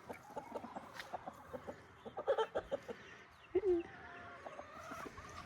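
Rescue chickens clucking outdoors in a busy, irregular run of short calls, a few louder bursts standing out near the middle and end, with other farm birds faintly mixed in.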